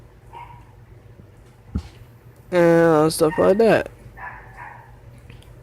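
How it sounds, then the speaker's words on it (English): A pet dog barks and yips loudly in one burst of several close, sharp calls in a home, framed by a person talking before and after. "And you hear my dog speaking because he got my nerves."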